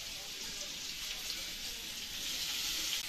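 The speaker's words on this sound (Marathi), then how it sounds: "कांदा भाजायचं काम चालू आहे" Onion roasting for a fish recipe, a steady faint hiss and crackle of sizzling that holds evenly throughout with no voices.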